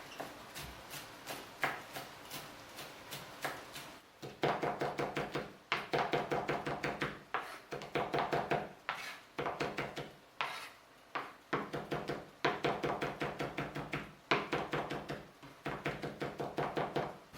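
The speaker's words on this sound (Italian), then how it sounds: "Trito il prezzemolo" Parsley being chopped with a knife on a board for a paccheri, cuttlefish and cherry tomato dish, heard as rapid rhythmic blade taps in close, steady bursts with brief pauses between runs.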